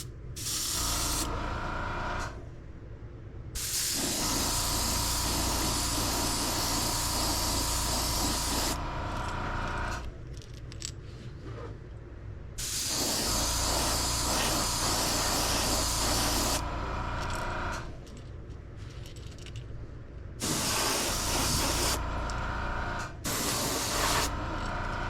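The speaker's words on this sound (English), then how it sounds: "I put very little bit in the airbrush, and we're gonna keep the airbrush as far back as we can" An airbrush mists translucent lemon yellow paint lightly over a fishing bait, giving a continuous close hiss in long passes that swell and dip with brief lighter gaps between them and no voices.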